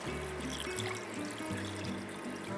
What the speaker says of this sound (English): Now, just enough water to cover everything.